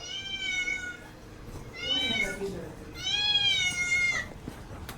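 A hungry cat meows for fish three times, each cry a drawn-out, close and fairly loud call separated by short pauses, with a kitchen hum in the background.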